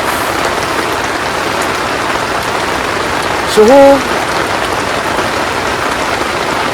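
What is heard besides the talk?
heavy rain while camping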